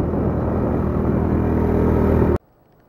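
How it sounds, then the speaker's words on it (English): A three-wheeler rumbles along close by with a steady engine drone and heavy low roar, then cuts off abruptly near the end. "Three-wheeler ride."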